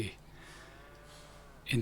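Cattle moo in Farming Simulator 25 on a dairy and cattle farm just after being turned out: a steady low drawn-out moo fills the clip, ending in a louder, sharper burst.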